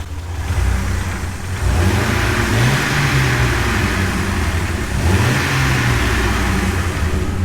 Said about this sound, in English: if we rev the engine